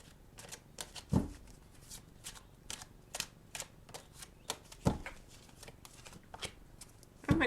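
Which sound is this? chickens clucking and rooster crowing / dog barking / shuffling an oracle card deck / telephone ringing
shuffling an oracle card deck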